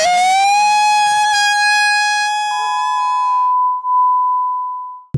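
A loud, sustained siren-like horn blares in the game Another Way Out, its pitch rising then holding steady like a tornado siren before a flat electronic tone cuts off abruptly.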